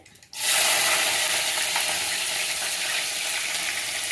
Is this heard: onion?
yes